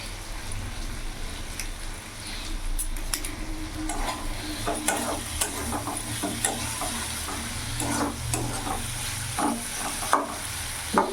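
Potatoes and spices sizzle steadily in a pan as they are sautéed for a rohu fish curry, with intermittent stirring scrapes and light utensil clicks, close and continuous.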